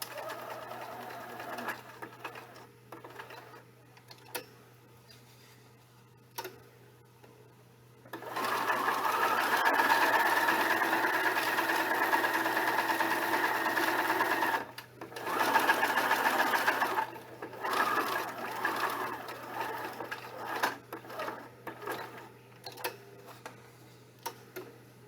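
A sewing machine edge-stitches along hair canvas in a long steady run, pauses briefly, then runs again in shorter bursts, with quiet handling noises in between.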